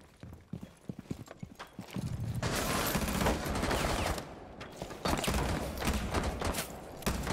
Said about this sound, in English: I like hear them all getting shot at, but I don't see anybody